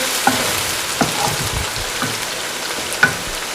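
Onions frying in a pan for chicken karahi, a soft continuous sizzle broken by several sharp spoon scrapes and taps against the pan, close and alone.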